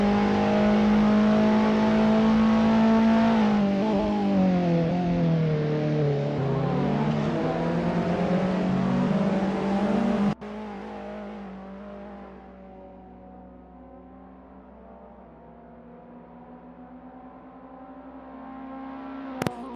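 A touring car from the 939 Corse championship in a sim racing game roars through a fast lap, the engine loud and close with rising and falling revs, then dropping to a quieter, lower drone after a sudden shift in tone.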